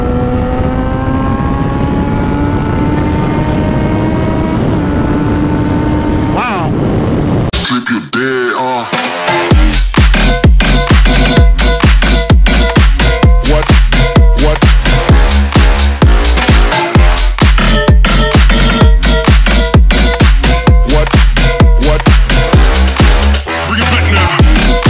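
A Yamaha FZ6R motorcycle with revised fuel maps pulls hard and loud, its engine droning steadily before an abrupt shift into a dense, pulsing roar that keeps climbing close to the microphone.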